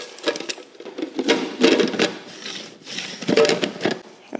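Stand mixer churning croissant dough made with yeast and sugar, a busy mechanical whirr with rhythmic knocking and clatter that rises and falls in bursts, close and fairly loud with no talk.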